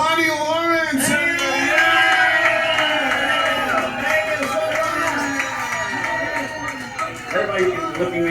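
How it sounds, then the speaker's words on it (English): Crowd applauding and cheering at a celebration-of-life gathering for a golf pro, with loud sustained clapping, whoops and shouted voices filling the room throughout. "can we please have a rousing round of applause for our own golf pro, Connie Lawrence!"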